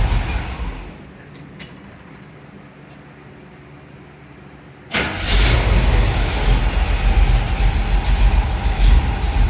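A 1975 Chevrolet C10 truck engine cranks over a quiet rumble with a few clicks, then fires up about halfway through into a loud, steady, close running roar.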